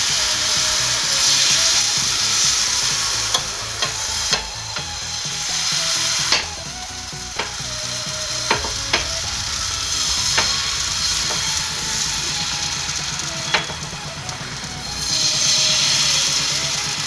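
Pati shapta batter hits a hot pan greased with ghee, giving a continuous crackling sizzle broken by scattered sharp clicks and scrapes of a utensil, with a brief louder hiss at the start and again near the end.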